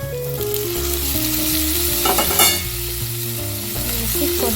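Tomatoes tossed into a pan of softened onions fry with a steady, close sizzle, broken by a few stirring scrapes and a brief louder hiss midway.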